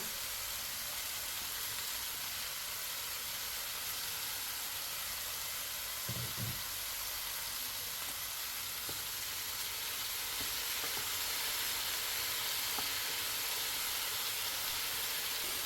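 Cubed potatoes frying in a pan over a low flame give a steady, even sizzle and hiss throughout, close up, with no speech.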